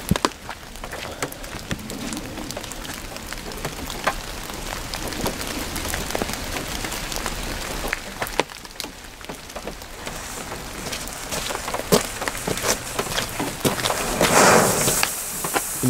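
A small yellow Bengal flare firework burns outdoors with a loud, continuous rushing hiss and crackle that holds steady for about sixteen seconds, with no talking.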